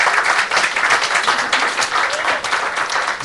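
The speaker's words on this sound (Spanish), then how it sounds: "Dale un aplauso al Señor." A church congregation breaks into loud, continuous applause, a close and dense wash of clapping with faint voices mixed in.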